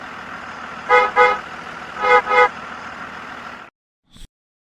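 City bus idling with a low engine drone while its horn honks twice in quick double toots, loud and near, followed by a brief faint knock after the engine stops.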